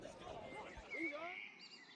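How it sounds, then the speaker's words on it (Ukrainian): Birds sing at about four in the morning, their bright chirps and whistled phrases clustering in the middle of the stretch against a steady background hum, moderately close and fairly faint. "А це я прокинулась о четвертій ранку, тому що пташки не давали мені спати. Лише послухайте, як вони співають."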